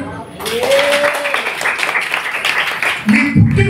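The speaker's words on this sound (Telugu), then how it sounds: "చప్పట్లు కొట్టండి." Audience at a World Disabled Day celebration clapping hands together in steady applause, fairly loud and sustained for several seconds, with a voice speaking over the clapping near the end.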